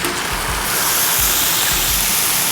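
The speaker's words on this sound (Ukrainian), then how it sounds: "Друзі, ну а тепер можна додати води." Water pours steadily into a pot, a full rushing splash with low thumps, loud and close, and no voices.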